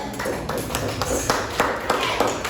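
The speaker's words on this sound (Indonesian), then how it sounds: "Oke, tepuk tangan buat Yun." A classroom group applauds a student for a right answer with scattered, uneven claps in a short burst up close.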